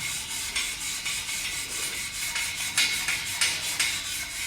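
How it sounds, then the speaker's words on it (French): A wire brush scrubbed back and forth over a chamfered metal workpiece to clean it before arc welding, steady rasping strokes in a regular rhythm, close and moderately loud, no talking. "Je vais brosser pour enlever vraiment les impuretés."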